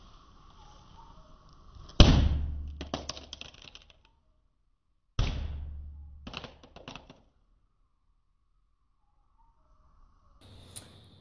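Two sharp, heavy impacts strike a Samsung Galaxy S II phone a few seconds apart, each followed by rattling, clattering debris that dies away, then a faint clink near the end.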